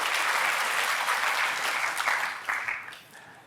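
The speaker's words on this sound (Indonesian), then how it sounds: "Kasih tepuk tangan kepada Tuhan" A church congregation applauds during a sermon, a dense wash of clapping from many hands that holds steady and then thins and fades out over a few seconds.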